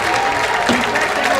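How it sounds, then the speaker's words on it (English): A minor league baseball crowd claps steadily at a Southern Maryland Blue Crabs versus Long Island Ducks game in the top of the ninth, a dense, loud wash of applause throughout. "Crowd getting into it, clapping their hands."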